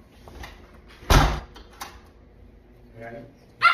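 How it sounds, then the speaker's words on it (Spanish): A door opened indoors, giving a sharp loud clunk of the latch and handle followed by a few lighter knocks and a final rattle, with a voice briefly heard nearby. "Vamos a abrir la puerta."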